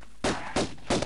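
Three evenly spaced pistol shots in the Tomb Raider video game, loud and close with short decays, no speech.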